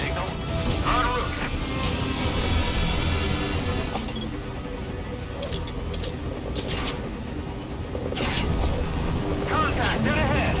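Helicopter in Metal Gear Solid V: Ground Zeroes, a steady dense rotor and engine drone filling the whole stretch, with gunfire-like bursts and radio chatter mixed over it.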